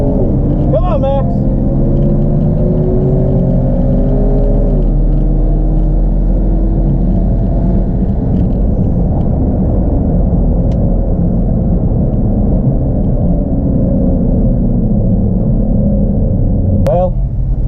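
A 2014 Jeep SRT8 with a built motor and 82mm turbo accelerating hard, a loud, sustained engine roar with rising pitch over the full run. A brief whine and chirp are audible near the start and again near the end.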